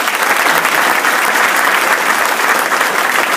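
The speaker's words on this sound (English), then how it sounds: "Please give them a round of applause." Loud, dense applause from a large audience at Canoecopia, a paddlesports expo, sustained steadily throughout with no talking over it.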